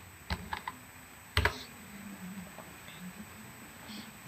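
Short bursts of typing on a computer keyboard, a few quick clustered keystrokes near the start and a louder flurry around the middle, then mostly quiet room tone with faint clicks.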